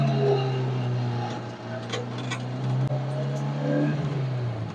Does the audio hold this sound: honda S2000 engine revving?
yes